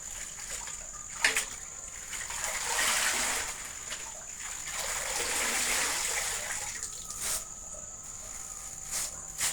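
Moringa drumstick pods are washed by hand in a basin of water, with soft sloshing and swishing that swells and fades over several seconds. Occasional light knocks are heard, and a steady high whine runs underneath.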